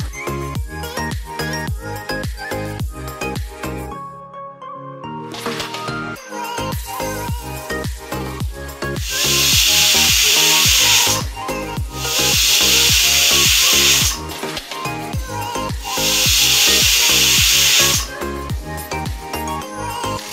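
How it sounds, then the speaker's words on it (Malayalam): A pressure cooker boiling jackfruit seeds on a stove lets out three long, loud hissing whistle bursts, each lasting a couple of seconds, over steady background music. "കുക്കറിലാണ് വേവിക്കുന്നതെങ്കിൽ ചക്കക്കുരു ഏതാണ്ട് 4 വിസിൽ കേൾക്കുമ്പോൾ വേവും."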